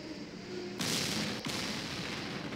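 Tank gunfire in the war game Campaign Series: Middle East, a loud single blast that bursts in sharply and rumbles on, with a second sharp crack shortly after over steady battle noise.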